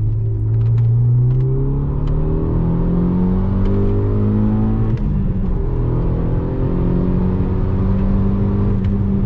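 A Renault R25 F1 Team car with three people aboard accelerates hard in second gear, its engine droning steadily and rising in pitch through the revs, loud and close from inside the cabin, with a brief dip midway.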